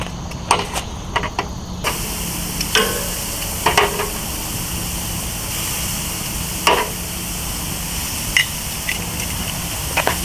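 Shrimp sizzling steadily on a Weber Genesis II propane gas grill over indirect heat, a continuous close hiss of frying with occasional clicks and taps of tongs.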